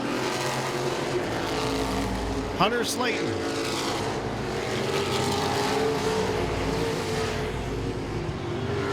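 Modified race cars roar around Langley Speedway, engines droning continuously with one car sweeping close and loud past midway, while an announcer talks over the noise.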